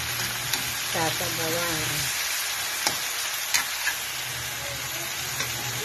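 Chicken pieces sautéing in a pan for a chicken with bitter gourd dish give a steady, close sizzle throughout, while a voice talks briefly at the start.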